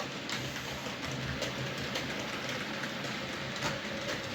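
A model locomotive runs along its track with a steady, close rolling rumble and a light scatter of rhythmic clicks from the wheels, continuous throughout with no voices.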